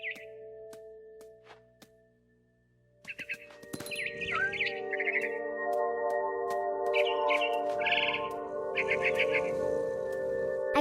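A mama bird chirps in the video game What Remains of Edith Finch, bright short tweets and trills over a hum of game ambience and tones, starting faint, then busier and louder in clustered bursts.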